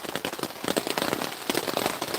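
Heavy rain drums on a tent pitched by a lake, dense, close, irregular pattering impacts that keep up without a break.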